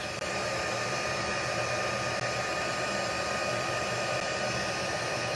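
A hair dryer blows air steadily to melt embossing powder on cardstock for stamping, an unbroken close-up whoosh holding at an even level for about five seconds with no talking.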